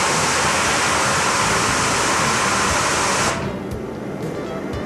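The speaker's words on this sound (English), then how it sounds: "Here we saw how this fan nozzle operates" Water sprays from a 15-degree fan nozzle onto cooler fins as a loud, dense, close hiss that runs steadily for about three seconds before dropping to a quieter, thinner spray.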